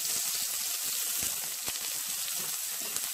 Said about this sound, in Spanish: Chorrito de aceite, echamos la cebolla bien picadita